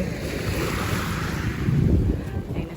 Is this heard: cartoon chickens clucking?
no